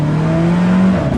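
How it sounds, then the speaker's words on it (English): Alfa Romeo 4C with its 1.75-litre engine droning loudly and steadily up close, a strong low harmonic note holding through a brief burst with a slight pitch shift near the end. "just to hear the noise of the 4C"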